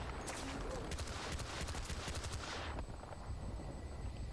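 Rapid automatic gunfire in the video game Battlefield Bad Company 2, a dense burst of shots for about two and a half seconds that then drops away to a quieter background rumble.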